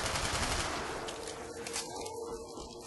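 Rapid automatic MP5K fire in Black Ops Zombies on the Kino Der Toten map crackles as a fast, continuous burst of shots that stays loud and close for a few seconds, with no talking over it.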